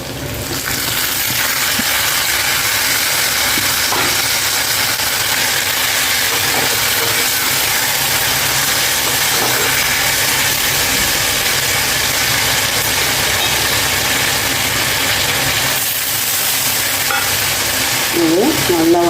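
Tomatoes and onions sauté in a pan, a steady loud sizzle and frying hiss running unbroken throughout with faint stirring scrapes and no talk.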